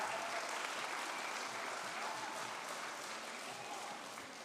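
A church congregation claps for its two Rocks program directors in a dense, sustained round of applause that stays steady before easing off slightly toward the end.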